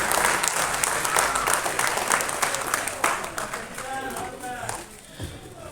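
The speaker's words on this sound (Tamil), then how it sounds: "நல்லா கைத்தட்டலாம். கைத்தட்டு அழகு கூடும் சொல்லுவாங்க." An audience claps at a film audio launch event, a dense, steady patter of many hands that begins to thin toward the end, with voices speaking over it.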